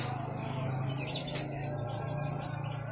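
A cucak ranting songbird at the Pramuka bird market chirps and trills in quick bursts over a steady low hum and busy market background.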